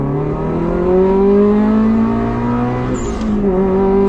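A 2004 Subaru Impreza engine revs hard and steadily toward its 7,000–8,000 rpm shift light, a loud, close, sustained drone with rising harmonics and a brief dip near the end.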